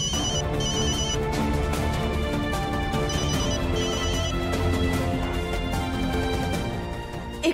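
A telephone ringtone repeating in steady electronic bursts over a musical background, loud and continuous with no talk.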